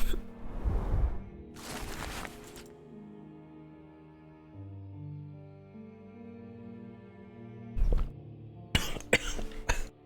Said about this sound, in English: So I started coughing